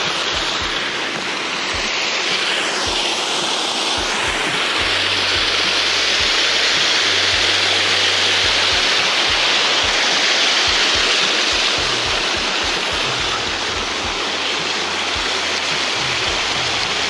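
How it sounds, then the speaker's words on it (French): A river runs steadily past a carp fishing pond, its broad continuous rush of flowing water loud and close throughout, with no voices over it. "c'est cette rivière qui alimente en permanence"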